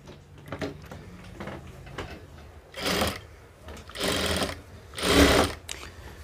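A sewing machine stitches a knit placket onto a pocket, running in short bursts and then three longer loud runs, each separated by pauses and faint handling sounds close by.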